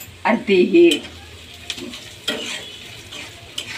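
Onions and salt fry in oil in a home kitchen pan while poha is being made, giving a near, brief burst of sizzling and stirring that settles into a faint, steady hiss with occasional clinks and a little background speech.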